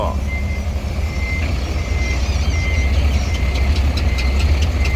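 A dump truck engine runs with a loud, steady low rumble close by, while a high, repeating electronic beep sounds over it and a voice may be faintly heard.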